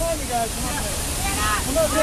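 A flash flood cascades down a huge rock wall as a waterfall, a loud, rough, unbroken roar with voices faintly rising over it.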